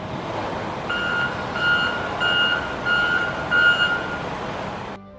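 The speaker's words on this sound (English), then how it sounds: "I heard the Amazon truck. It beeped, backing into" Repeated high-pitched reversing beeps from an Amazon delivery truck, five or six evenly spaced tones over a steady low engine rumble, moderately close.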